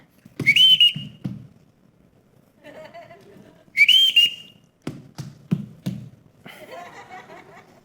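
Captain's shrill signal whistle in a stage production of The Sound of Music, two sharp rising trill blasts a few seconds apart, with footstep-like taps and soft murmurs between them.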